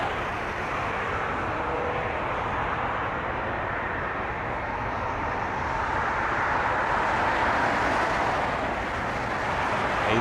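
Airbus A350 airliner at Toronto Pearson airport, a steady broadband jet roar that swells slightly toward the end, continuous and fairly distant with no talk.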